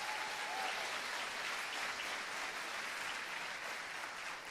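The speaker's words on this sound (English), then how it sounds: "How about a round of applause for Haley and Sophia?" A continuous round of applause fills a school athletics awards ceremony, many hands clapping at once in a dense, even wash, heard from some distance and fairly quiet.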